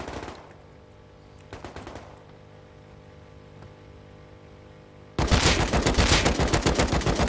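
Gunfire in the video game Rust: a couple of separate shots over a quiet stretch, then a loud, rapid burst of automatic fire that carries on steadily to the end, with no one talking.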